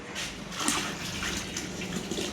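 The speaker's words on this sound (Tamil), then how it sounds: "தண்ணி ஊற்றிக்கிறீங்களாம்மா? ஆமாங்க, 3 லிட்டர் தண்ணி." Water pours into a pot of vegetables and dal for tiffin sambar, a continuous close splashing gush with no talk.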